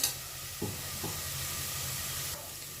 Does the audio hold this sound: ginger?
yes